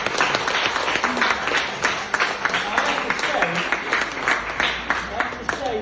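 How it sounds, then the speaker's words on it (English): Applause from an audience at a hypnosis and IEMT demonstration, a steady wash of clapping hands for a volunteer named Carol, sustained for several seconds with some talk mixed in. "give Carol a round of applause"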